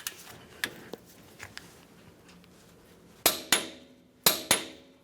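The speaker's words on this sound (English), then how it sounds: "Let's torque this nut to 258 foot-pounds with our 32 millimeter socket." A torque wrench with a 32 mm socket tightens a strut nut on a 2009–2019 Ford Flex. Faint ticks come first, then two pairs of sharp, loud metallic clicks stand out clearly in a quiet workshop.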